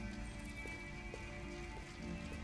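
Rain patters steadily in Detroit: Become Human, an even wash of drops with faint tapping on surfaces. It runs under a low musical drone and never lets up.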